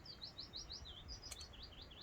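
A blackbird sings faintly in the distance, a run of quick repeated whistled phrases over quiet outdoor background.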